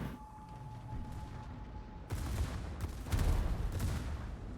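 Warship guns fire HE shells in World of Warships, a distant rumbling volley swelling into several heavy booming salvos in the second half, moderately loud with no talk.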